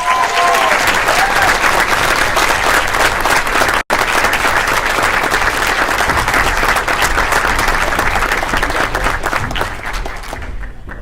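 Sustained, loud applause from a school board meeting audience congratulating student cross-country athletes; many hands clap steadily with a brief break before tapering off near the end.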